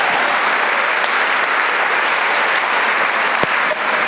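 An audience applauds steadily at a school district convocation, the dense clapping holding at an even, fairly loud level for several seconds, with a couple of sharper individual claps standing out near the end.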